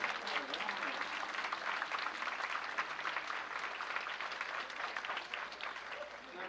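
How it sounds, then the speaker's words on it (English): Sustained audience applause at a first-grade grandparents' day school event, dense steady clapping from a large crowd filling the room at even loudness throughout, with some faint voices mixed in. "Give them a nice round of applause."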